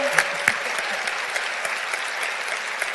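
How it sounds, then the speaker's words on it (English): Conference audience applauding at a women of color career conference, a steady broadband patter of many hands clapping throughout, moderately loud and continuous with a few sharper claps standing out. "Applaud yourself,"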